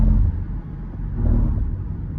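Inside a Toyota Hilux Revo GR Sport 2.8 pickup with a six-speed automatic and rear-wheel drive while it is driven, a steady deep engine and road rumble fills the cabin, swelling slightly as it pulls, with no talking.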